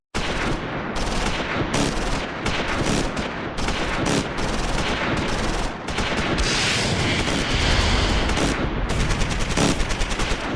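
Dense, continuous gunfire from the Battle of the Bulge fight at Manschau in Close Combat 4: rapid overlapping shots and machine-gun bursts in a loud, sustained barrage with no gaps.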